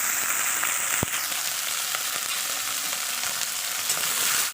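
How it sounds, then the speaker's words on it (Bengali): Loud, continuous sizzling of broccoli frying in hot oil, with a single clack partway through before the sound cuts off. "এবার আমি ব্রোকলিগুলোকে ভালো করে ভেজে নেব"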